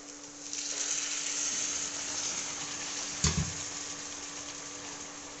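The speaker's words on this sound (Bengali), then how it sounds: "এখনই আমি ওতে দিয়ে দেবো গরম জল।" Hot water poured into a pan of fried potatoes being cooked for a Bengali potato curry, a steady close hiss and gush lasting several seconds with a brief sharper splash midway.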